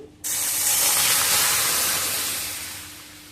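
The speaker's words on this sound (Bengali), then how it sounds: "এবার ছানাটা ছেঁকে নেব" Curdled milk, split with two spoonfuls of sour yogurt, is strained to separate chhena, giving a loud, steady rush of draining liquid that starts abruptly and runs unbroken for about three seconds before tapering slightly, with no talking.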